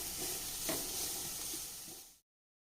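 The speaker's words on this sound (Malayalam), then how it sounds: "നമുക്കിതൊന്ന് റോസ്റ്റ് ചെയ്തെടുക്കാം ആ തേങ്ങയിലൊക്കെ ഒന്നായ വെള്ളമൊന്ന് പറ്റണ വരെ നമുക്കൊന്ന് റോസ്റ്റ് ചെയ്തെടുക്കാം" Grated coconut roasting in a pan for coconut chammanthi, a steady close sizzle with faint stirring scrapes, continuous and soft, cutting off abruptly near the end.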